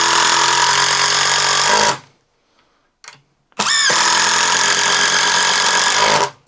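Craftsman impact driver sinks a 3.5 inch deck screw, a loud, steady, buzzy burst for about two seconds, a short pause with a brief tap, then another loud sustained run of nearly three seconds.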